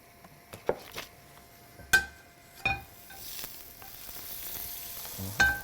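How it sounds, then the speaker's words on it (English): Butter melts with a soft, faint sizzle in a hot pan, punctuated by a few sharp clinks and taps of utensils against the metal, close by and with no talking. "My pan is hot. I'll add a little bit of butter."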